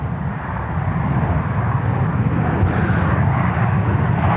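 Asiana airliner jet engines at Sydney Airport on runway 34 right: a loud, steady broadband roar running throughout, with no voices.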